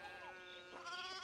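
Sheep bleat in the video game Pentiment, a soft wavering cry rising through a faint pastoral music bed, quiet and somewhat distant.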